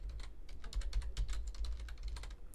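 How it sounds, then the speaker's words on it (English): Rapid clicking keystrokes on a computer keyboard, a close, steady burst of typing lasting a couple of seconds with no talking. "I'm going to type in ceramic plate."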